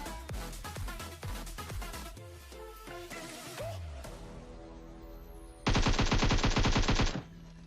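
An M16 rifle in the mobile battle-royale game PUBG Mobile fires in rapid automatic bursts, with a loud sustained volley near the end over steady game background noise.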